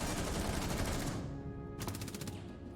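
Rapid automatic gunfire in Rainbow Six Siege, a dense continuous burst of loud shots that thins out, followed by a second quick rattling volley.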